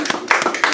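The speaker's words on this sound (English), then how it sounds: "Give God a hand clap." A church congregation claps hands during a sermon, with a few sharp, distinct claps in quick uneven succession, close and fairly loud, over a faint sustained tone.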